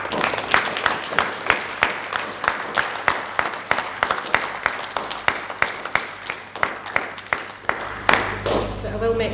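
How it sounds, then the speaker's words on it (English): Audience applause at a school presentation awards ceremony, made of separate, fairly sparse claps in a loose rhythm that carry on steadily, with a low hum underneath and a louder burst just before the end. "give a very big round of applause in Aisha."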